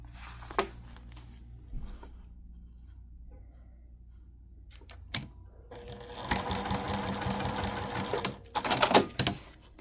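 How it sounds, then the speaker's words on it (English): A sewing machine bastes fabric for a crossbody bag, running in a few short bursts, then a longer steady whir of stitching, with a couple of quick stops and restarts near the end, close and fairly quiet. "Same thing, basting that in place."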